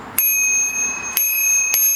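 Bicycle bell mounted on a bike rung three times, each sharp metallic ding sustaining a bright ringing tone between strikes, loud and close.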